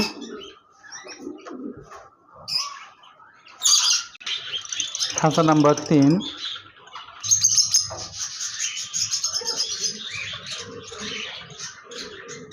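Lovebirds in nesting-box cages chirp and chatter in bright, busy bursts, with a loud harsh squawking call in the middle, and someone speaks briefly among them.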